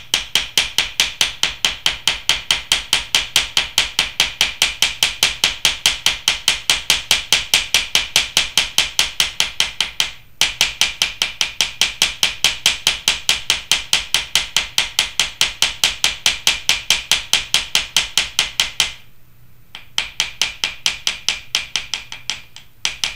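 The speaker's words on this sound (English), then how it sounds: "So you need to hold it, and I'm going to hammer it." Rapid, steady hammer blows ring out on a silver wire cuff frame being shaped for a cabochon setting, close and loud, with two brief pauses in the rhythm.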